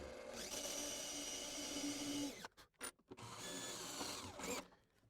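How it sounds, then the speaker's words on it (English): A power drill with a rotary file bit whirs steadily, grinding to enlarge a hole in a double-hung window, then cuts out in a few short bursts before running again and stopping. "I'm pushing up this way as the drill is going"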